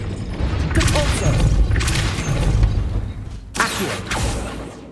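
The Depulso force-push spell cast in Hogwarts Legacy: a series of loud, booming magical blasts with crashing, rumbling bursts. Several strong hits follow one another closely, with a quieter gap before a last pair.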